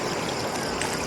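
Water pours steadily over a muddy motorbike beside a mountain road in the rainy season, a continuous close rushing splash with no pauses and no talking.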